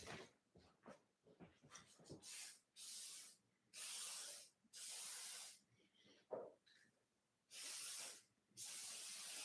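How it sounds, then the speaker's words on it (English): An aerosol can of silicone spray sprays in repeated bursts onto a 1962 Schwinn bicycle, a series of loud hissing blasts separated by short pauses and faint handling noises. "we got the silicone spray on there"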